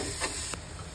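Onion sizzles in garlic butter in a pan with a steady, bright hiss. The sound is close and even throughout, with one brief louder crackle.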